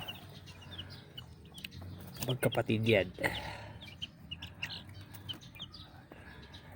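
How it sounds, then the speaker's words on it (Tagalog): Roosters cluck and call in short bursts, loudest in the middle, with someone talking nearby over faint farmyard background noise. "Dalawa na yan, tandang pareho."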